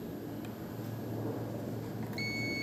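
A clamp meter on continuity test gives a single steady electronic beep near the end, clear and close over a low background hum.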